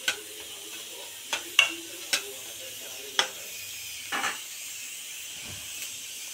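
Masoor dal fritters frying in oil give a soft, low hiss, broken by several sharp utensil clicks and taps against the pan.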